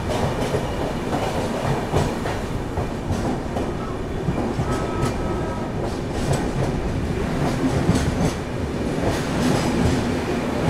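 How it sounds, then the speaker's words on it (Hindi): The Seemanchal Express runs along the rails in Bihar, heard from on board as a continuous loud rumble with rhythmic clickety-clack of the wheels and occasional faint squeals, with no voices. "आरा से निकलने के बाद अपनी ट्रेन पहुंच चुकी थी मेरे home town railway station Danapur railway station"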